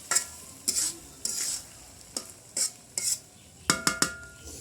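Katla fish biryani stirred in a pot, with about a dozen separate scraping strokes of a spoon against the metal, some quick clinks, and a faint sizzle between them.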